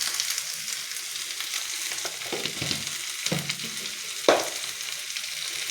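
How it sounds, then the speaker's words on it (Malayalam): Onions and cloves sauté in a pan, a steady close sizzle broken by occasional stirring scrapes and one brief sharp clack, with no voices. "ഗ്രാമ്പു ഇത്രയിട്ട് നമുക്ക് ഉള്ളിയിട്ട് വഴറ്റാം"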